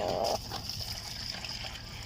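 Water poured into a chickens' drinker, a brief bright trickle and splash at the start that quickly stops and leaves low background noise.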